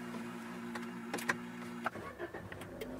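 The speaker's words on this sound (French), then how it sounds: "Donc on va démarrer la voiture." A car engine cranks and fires up, with short mechanical clatters and rising bursts over a steady hum, fairly quiet and close, with no talking.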